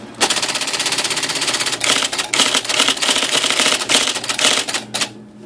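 Rapid mechanical typing clatter from an IBM Selectric III electric typewriter, a dense continuous run of keystrikes with brief pauses, close and loud, stopping at the end.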